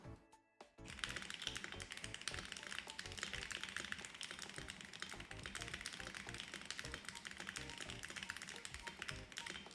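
Rapid, continuous tapping on a computer keyboard, close and fairly quiet, the keystrokes running in a dense uneven stream after a brief pause at the start.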